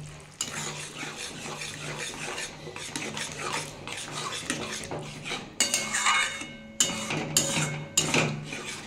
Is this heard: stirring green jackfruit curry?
yes